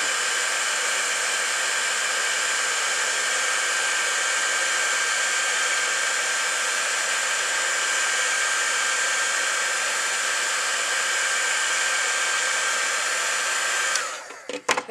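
An embossing heat tool blows hot air to melt embossing enamel on a stamped hummingbird, a steady, even rushing whoosh for about fourteen seconds that cuts off abruptly with a few clicks at the end.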